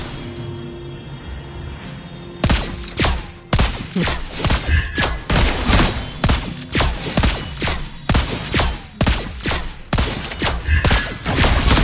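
Lesley's gun in the Mobile Legends video game fires in rapid, loud bursts of shots with short gaps between volleys. A quieter game ambience precedes the first burst, and nobody talks.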